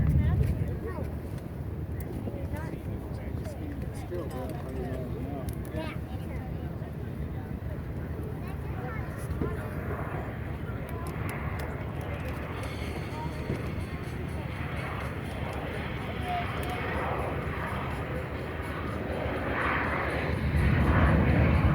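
Steady roar of an Alpha Jet engine at an air show as it runs up to full power and climbs away, a broad continuous rumble with wind buffeting, swelling slightly toward the end.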